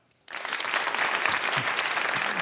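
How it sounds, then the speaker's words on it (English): After a short silence, a Harvard lecture-hall audience breaks into applause, a sudden onset of dense clapping from many people that holds steady and fills the room. "And those who haven't, you applaud now."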